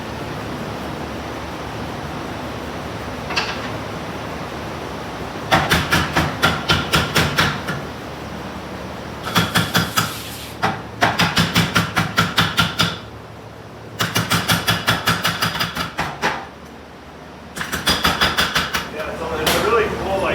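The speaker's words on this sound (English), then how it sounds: "So did Tetsuo tell you this was the last one of these hammers made?" A foot-powered forging power hammer at Carter Cutlery in Council, Idaho pounds in rapid bursts of sharp, loud strikes, each run lasting a couple of seconds with pauses between, over a low steady hum.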